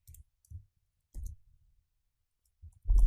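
A handful of scattered keystrokes on a computer keyboard click quietly and close by, separated by silent gaps, ending in a heavier thump.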